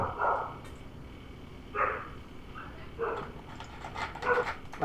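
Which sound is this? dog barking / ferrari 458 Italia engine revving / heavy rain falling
dog barking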